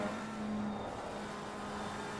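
A GT3 race car engine in a racing video game holds a steady drone, then eases slightly as the driver briefly lifts off the throttle through a fast chicane, with no voices over it.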